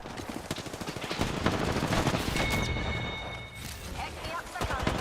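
Rapid, dense video game gunfire in a team shooter, steady rattling bursts running throughout with a brief lull midway, beneath overlapping talk.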